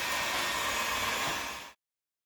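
A hot air blower roars in a steady, loud, even rush of air while heating a water-damaged kitchen countertop during a repair, cutting off abruptly.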